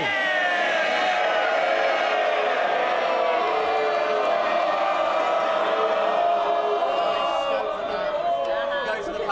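Members in the House of Commons at Prime Minister's Questions cheer and call out together, a loud, sustained roar of many voices that fills the chamber without a break.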